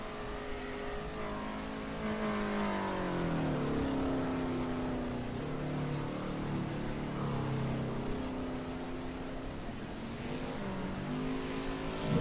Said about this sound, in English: They would have been noisy as heck. The engine right behind your head howling away.